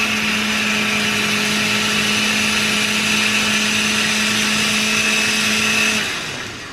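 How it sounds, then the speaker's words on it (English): A blender whirs loudly and steadily as it purees Texas-style barbecue sauce with anchovies, a constant motor hum that winds down and fades just before the end. "You really want to make sure that's blended good."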